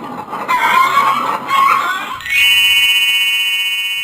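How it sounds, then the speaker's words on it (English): Chickens squawk and cluck excitedly in a coop, a loud, busy flurry of calls that gives way to a sustained shrill, tonal alarm-like sound. "Squawking chickens ran around in circles."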